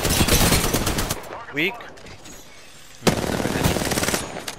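Automatic gunfire in a video game match rattles in rapid bursts, falls into a quieter pause with a short electronic chirp, then returns as dense, loud fire, while players speak briefly over it.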